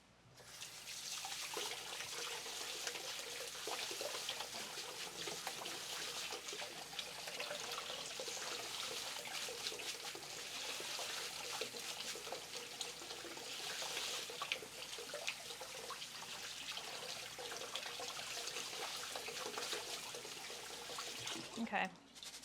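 Rice rinsed under running tap water, a continuous hiss and trickle of water into a bowl, steady and moderately close throughout, fading out at the very end.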